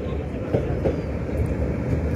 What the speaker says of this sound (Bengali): কমিউটার ট্রেনটি এখন টঙ্গী জংশন প্রবেশ করছে।